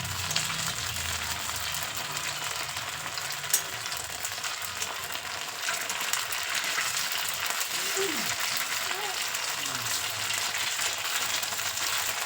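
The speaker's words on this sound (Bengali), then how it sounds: "এইভাবে উল্টে পাল্টে দুপাশটায় লালচে করে ভেজে নেব" Homemade paneer made from raw papaya fries in a pan with a constant, even sizzle and hiss that runs without pause, moderately loud and close.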